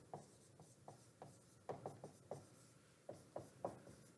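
A teacher writes on a board in a classroom, giving a run of short scratchy strokes and taps in an uneven rhythm, faint and close, with no talk over them.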